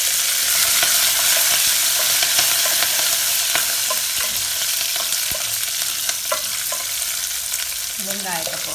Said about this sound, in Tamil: இப்போ நான் பச்சை மிளகாயும் கருவேப்பமிலையும் போடுறேன்.